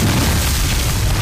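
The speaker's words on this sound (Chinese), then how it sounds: "刚想要歇一会儿，就飞来一颗手雷" A hand grenade explodes in a military action drama, a loud, dense, booming blast that fills the whole short moment with low rumble and broadband roar.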